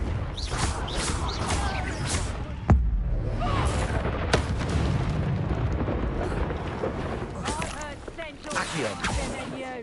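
A Confringo fire spell explodes in the Hogwarts Legacy video game, with a sharp blast about midway. Loud game effects, crackling and ambient noise surround it, and a voice speaks over parts of it.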